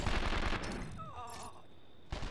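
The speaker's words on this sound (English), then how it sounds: "I hate the gun sounds, by the way." Gunfire in 24: The Game, loud rapid bursts at the start, a short pause with a faint tonal game sound, then another burst at the end.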